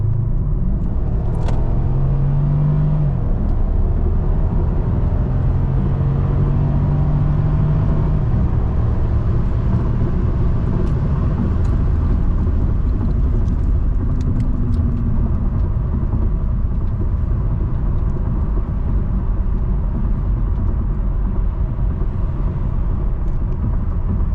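Constant low engine rumble from inside a moving 2012 Mercedes CLS 550 4Matic in sport mode, with a few brief rising tones as it accelerates, steady and fairly loud.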